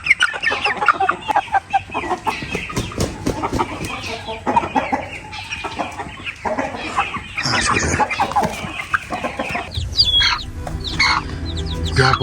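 Chickens and chicks cluck and peep continuously at close range, busy overlapping calls with higher chick chirps throughout, loud and lively.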